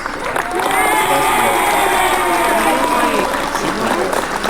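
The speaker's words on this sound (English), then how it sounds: "can we give a round of applause for that great distinction?" Studio audience on a live morning news show breaking into applause and cheering, a loud sustained crowd roar with clapping and raised voices that swells after a brief start and holds to the end.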